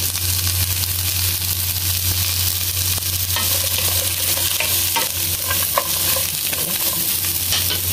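Chicken with onion frying in ordinary cooking oil gives a steady, close sizzle, with occasional scrapes and stirring clicks from a utensil in the pan, and no talk.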